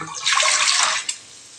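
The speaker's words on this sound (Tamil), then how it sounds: "அடுப்பில் குக்கர் வச்சு தண்ணி சேர்த்துக்கலாங்க" Water gushes into a pressure cooker sitting on a stove, a loud splashing rush that lasts about a second before cutting off, with no talk over it.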